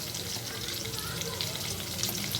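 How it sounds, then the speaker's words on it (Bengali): Potatoes frying in hot oil with a pinch of salt and turmeric, a steady close sizzle and crackle running unbroken throughout. "এবার আমি এই তেলটার মধ্যেই আমি আলুগুলি ভালো করে ভেজে দেবো।"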